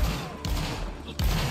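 Musket volleys crackle in a Napoleonic Wars multiplayer battle, with rolling bursts of massed gunfire and thuds in quick succession, loud and dense, and a second volley arriving near the end.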